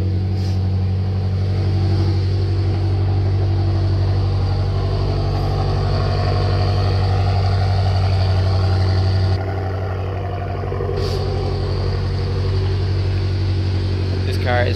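BMW M5 saloon with dual twin exhaust pipes running at a steady idle, a loud continuous low engine drone close to the tailpipes with a slight drop in level partway through.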